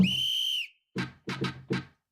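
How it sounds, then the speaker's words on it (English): A single steady whistle blast held for about half a second, bright and close, then several short muffled knocks or thumps in an uneven rhythm, with no talking. "So yeah, even a whistle."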